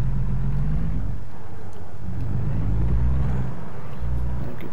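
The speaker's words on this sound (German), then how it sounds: "Karre anwerfen." A truck engine in American Truck Simulator cranks and starts up, settling into a steady low diesel rumble with a few surges in revs, heard close and alone without talking.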